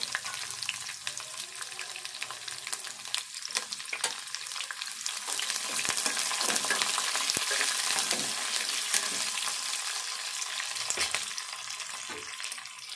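Steady, loud sizzling of onions frying in hot tempering oil for a drumstick and tomato curry, a continuous crackle with occasional sharper pops and no voices.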